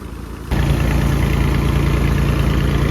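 A tractor engine idles steadily at around 1200 rpm, loud and close, with a deep even rumble that jumps in level after half a second and then holds constant.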